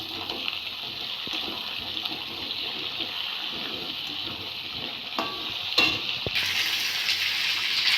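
Potato and raw banana pieces added to hot oil with fried onion and cumin seeds, giving a loud, continuous close sizzle with a sharper burst of frying toward the end and no voices.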